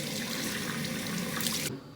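Running water from a tap as hands are rinsed, a steady splashing flow that cuts off abruptly near the end.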